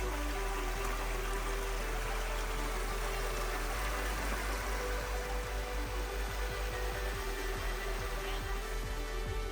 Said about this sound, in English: You can climb directly up the waterfall and find many small pools.